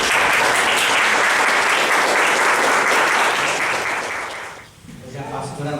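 A church congregation applauding loudly and steadily for nearly five seconds, the clapping dense and continuous before fading out, followed by a brief voice at the end.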